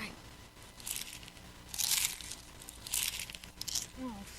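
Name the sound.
chewing crunchy popcorn snacks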